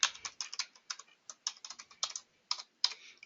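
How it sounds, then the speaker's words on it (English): Password being typed on a computer keyboard: a run of quick, close plastic key taps in uneven bursts, clear and alone with no voices. "Your login name will be there, but you have to type in your password."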